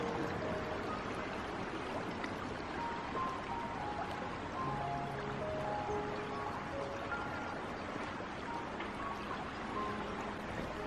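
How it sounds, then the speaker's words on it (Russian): Water in a stream flows and swirls beneath ice, a soft, steady rushing wash that stays even and fairly faint throughout, with no voices. "Какой звук приятной водички. Смотрите, как закручивает под лед воду."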